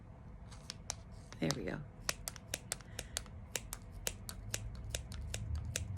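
Scissors snip repeatedly in a steady series of sharp, close clicks, with a brief rustle of handling partway through and a person speaking a few words.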